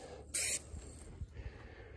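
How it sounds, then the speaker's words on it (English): Primer spray-painted onto car bodywork, a single short burst of aerosol hiss lasting about a quarter second, close and clear over faint handling noises. "I finished putting the primer on without trying to hold the camera and spray at the same time"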